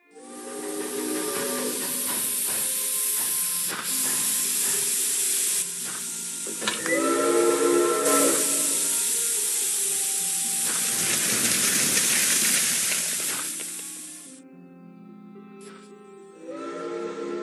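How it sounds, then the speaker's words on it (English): Steam train whistles in the Murder on the Orient Express video game sound as long sustained tones over a loud, steady hiss of steam that drops away near the end. "Those whistles mean a train with a snowplow has arrived from Broad."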